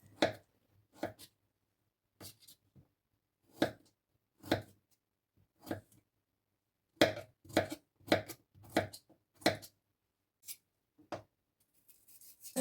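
Knife chopping potatoes into small cubes on a cutting board for an Olivier salad: irregular bursts of sharp close taps, some isolated, some in quick runs, with short pauses between, no talking.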